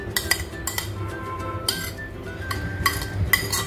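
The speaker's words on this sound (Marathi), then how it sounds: "सगळ्या भाज्या मिक्स करून घ्यायच्या" Finely chopped vegetables and coriander are stirred together in a bowl, with a utensil scraping and clinking against the sides in quick, uneven bursts of close metallic chinks.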